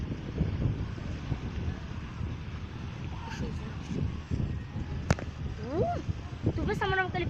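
Strong wind at Itaituba in Pará buffets the microphone outdoors, a steady low rumbling roar under people's voices, with a few brief tonal squeaks near the end.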